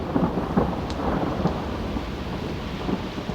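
A thunderstorm returns with heavy rain, as loud rumbling thunder rolls over a dense, steady hiss of falling rain, close and continuous with no voices.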